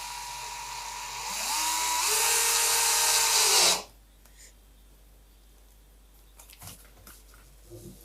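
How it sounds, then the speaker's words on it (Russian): A power drill drives self-tapping screws into a porcelain stoneware countertop, its motor whining loudly and rising in pitch for a few seconds before cutting off abruptly, followed by faint handling knocks. "И присверливаем саморезами."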